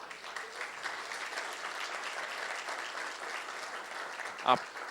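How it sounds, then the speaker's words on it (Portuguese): A church congregation claps together during a Portuguese-language service, a steady, fairly faint wash of applause that holds evenly throughout, with a brief louder knock near the end. "Irmãos, uma salva de palmas, por favor."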